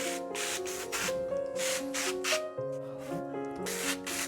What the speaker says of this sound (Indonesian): Kita semprot semuanya di daun-daunnya merata sama batang-batangnya.